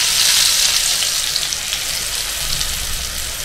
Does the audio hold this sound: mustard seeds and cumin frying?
yes